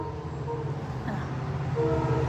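A train rumbles past nearby with a steady low roar, and a faint horn tone rises toward the end.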